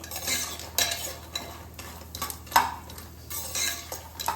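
Moong dal vadi stirred and roasted in oil in a pan: repeated scraping strokes of a metal spoon against the pan with a soft sizzle underneath, close and alone with no voices.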